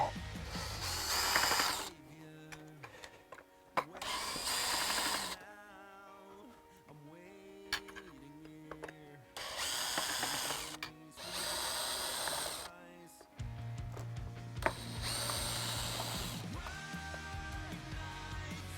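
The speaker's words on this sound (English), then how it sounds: "all you need is a drill and a star bit" A power drill with a star bit whirs in repeated bursts, spinning up and winding down, with ratcheting and clicking between runs as screws are backed out of an Ariel Rider X Class e-bike brake rotor.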